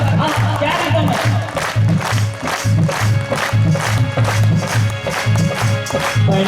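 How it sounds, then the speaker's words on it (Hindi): A large crowd in a pandal at a devotional gathering claps along in steady rhythmic unison, loud and close, with voices and shouts blended into the beat throughout. "जरा एक बार तालियां बजाओ।"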